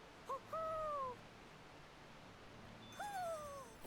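Owl in Tales of Arise giving two separate hoots a few seconds apart, each a short note followed by a longer falling call, fairly clear against a quiet ambient background.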